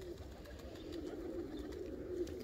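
Faint, low pigeon coos sound from a loft of homing pigeons, soft and continuous against a quiet outdoor background with no talking.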